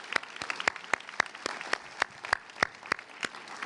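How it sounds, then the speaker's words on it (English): Rhythmic clapping at an awards celebration for finalists and participants, a steady beat of sharp claps about every quarter second over a soft crowd bed, moderately close. "Let's give everybody a round of applause, all of the finalists and participants"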